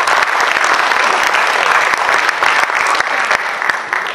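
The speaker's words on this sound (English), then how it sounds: "let us give a big applause to all the parents and the children for the fantastic work" A dense, sustained round of applause from an audience at an Ugadi community celebration, many hands clapping together steadily for parents and children, fairly close and loud.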